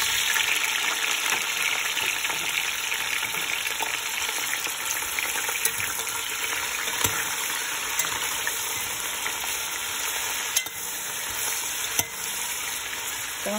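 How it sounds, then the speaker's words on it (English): Lamb meat frying with garlic in a pot for okra stew, a dense continuous sizzle with occasional stirring scrapes and clinks, close and steady without talk. "it looks like the meat is already mixed well, fried with the garlic"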